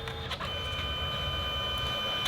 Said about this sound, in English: I wonder how the printer is going to handle this situation that during a batch printing the tray is empty